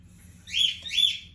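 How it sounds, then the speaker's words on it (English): A pet bird in a living room gives two short, bright chirps in quick succession, fairly close, over a faint low indoor hum, with no one talking. "Excuse my bird in the background"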